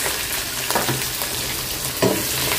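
Dried red chilies, green chilies and onion sizzle and fry in hot oil for a vegetable tempering, a continuous crackling hiss with occasional louder spatters and stirring scrapes, close and without talk.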